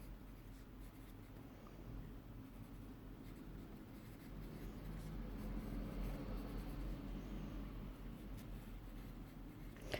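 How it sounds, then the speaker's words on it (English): A pen scratches steadily across paper while notes are written down, a close, continuous soft scribbling with no talking. "Let's write that down."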